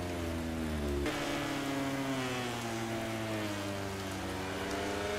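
Steady rain hiss falls during a wet MotoGP 19 motorcycle race at Misano, layered over a droning, whining bike engine that shifts pitch as it accelerates.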